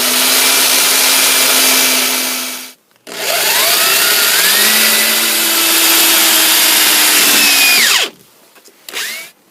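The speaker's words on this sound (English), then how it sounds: "when I drill the holes" A loud power drill whines steadily through the steel tang of a knife made from a saw blade, pitch sliding as it loads and unloads, stopping briefly midway and then cutting off near the end.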